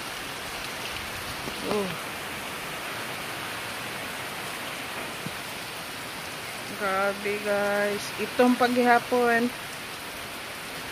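Heavy rain pours down steadily through the late afternoon, a dense, even hiss that runs the whole time, with a few brief bursts of voices talking over it near the end.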